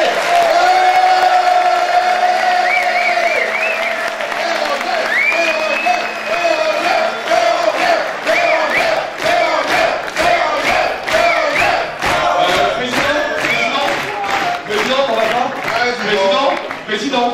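A crowd cheers, whoops and applauds loudly and steadily at a student integration-week closing ceremony, with voices shouting over dense clapping throughout.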